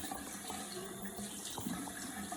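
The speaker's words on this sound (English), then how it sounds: "wash my hands" Tap water running steadily into a sink while hands are washed underneath, a continuous close splashing hiss with small shifts as the hands move.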